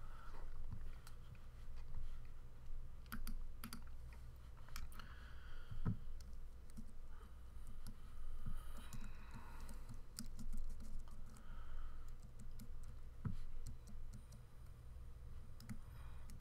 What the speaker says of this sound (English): The wire to my headset is draping across my keyboard and I'm hitting it with my finger.